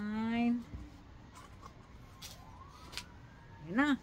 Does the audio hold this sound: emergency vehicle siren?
yes